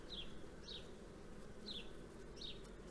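Honey bees in flight around a beehive, a few individual bees passing close with short rising buzzes, four distinct fly-bys over a faint, steady outdoor background.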